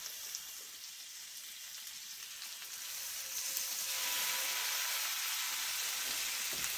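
Strips of bacon frying in a pan in a home kitchen give off a soft, steady sizzle and crackle that grows a little louder partway through, with no voices.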